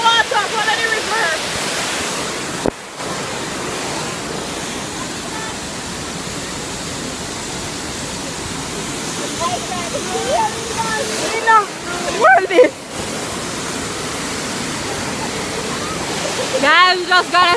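Rushing waterfall at Dunn's River Falls, Jamaica, a loud continuous roar of falling water that fills the scene, with people talking over it now and then.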